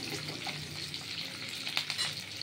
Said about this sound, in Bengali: এই পেঁয়াজ আর ক্যাপসিকাম ছেড়ে দিলাম।